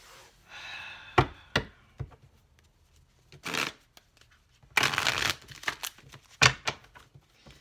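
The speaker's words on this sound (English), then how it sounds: "These cards just never want to shuffle right." Tarot cards riffle and snap in several quick bursts, with soft shuffling and tapping between them, close and fairly quiet.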